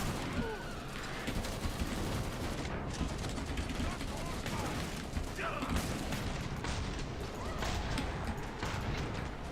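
Guns fire almost nonstop at zombies in Killing Floor 2, with rapid shots and bursts packed into a dense, even barrage and voices talking underneath.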